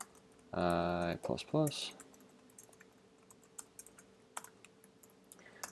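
Keys on a computer keyboard are tapped in quick, uneven clusters during coding, close and fairly quiet, after a brief spoken phrase.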